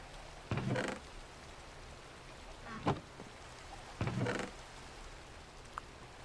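Soft, steady rain falls in Minecraft as a quiet hiss, broken by three brief louder bursts of game noise and a few faint taps.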